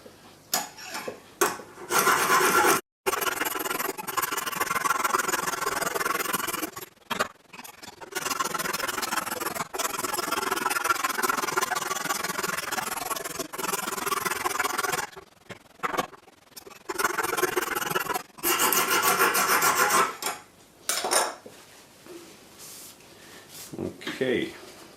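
Knife blade drawn across a Lansky sharpening stone in steady rasping strokes, close and continuous in long runs with brief pauses, while someone talks intermittently.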